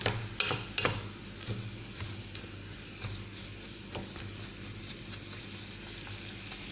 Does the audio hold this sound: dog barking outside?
no